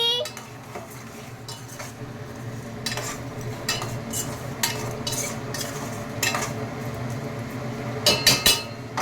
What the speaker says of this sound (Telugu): ఇప్పుడు మనం దాన్ని తిప్పాలి